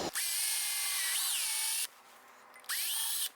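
Power drill boring holes through a wood board for a homemade Moxon vise, a steady loud whine with a pitch dip as the bit bites, stopping briefly then starting again near and alone.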